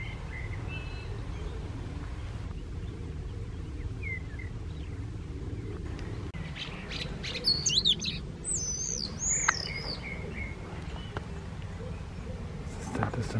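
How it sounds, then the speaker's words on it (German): A starling whistles in a garden setting, its bright, swooping whistled phrases clustering around the middle of the stretch over steady low rumble of passing traffic, fairly near and clear. "Ist ein toller Vogel, der so pfeift."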